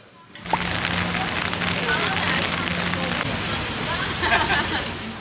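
Steady rain falling on a Seoul summer day, a dense even hiss that starts abruptly and continues unbroken, fairly close, with a faint low hum beneath at first.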